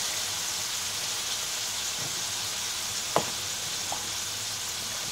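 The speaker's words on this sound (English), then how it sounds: "Now what we're gonna do is break up the noodles." Ramen noodles cook in a sizzling pan with a steady frying hiss throughout, as a few sharp clicks and scrapes mark the noodles being broken up with a utensil.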